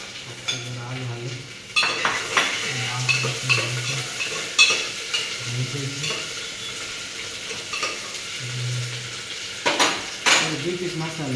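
Potatoes fry in a pan during home cooking, with a steady sizzle broken by repeated scraping and clanking of a utensil stirring against the metal, close and fairly loud.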